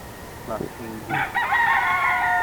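A Super Sweater gamefowl rooster gives a few short clucks, then a single loud, close crow that rises and holds to the end.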